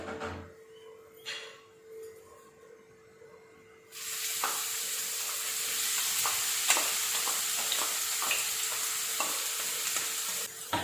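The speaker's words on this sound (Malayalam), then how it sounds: "അപ്പോൾ എണ്ണ ഇവിടെ ചൂടായി വന്നിട്ടുണ്ട്. ഇനി ഇതിലേക്ക് നമുക്ക് ഉള്ളി ഇടാം." Onions drop into hot oil for chicken kuthikachiyathu and burst into a loud, steady sizzle that continues after a quieter start, with faint stirring clicks throughout.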